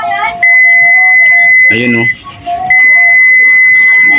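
A multimeter beeps steadily during a continuity test on a shorted diode from a Hanabishi air cooler with a no-power fault. Loud, sustained electronic tones break briefly while someone speaks close by.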